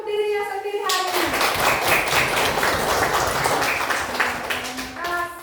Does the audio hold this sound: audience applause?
yes